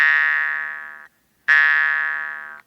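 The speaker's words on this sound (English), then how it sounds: "with the end of your pointer finger, pull the twanger toward you and let it go" A jaw harp twanger plucked twice, each pluck a bright buzzing metallic twang that rings and slowly fades, separated by a short silence, close and clear with no voice.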